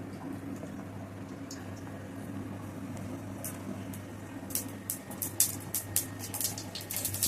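Mustard seeds popping in hot oil for tempering rasam, a low hum at first, then a run of sharp, scattered crackles and pops that grows busier toward the end, close by.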